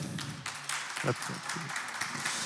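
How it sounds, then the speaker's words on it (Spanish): Audience applause for a speaker at a leadership class, a steady wash of many hands clapping with some voices mixed in, continuous for the whole stretch. "un aplauso por favor al Red"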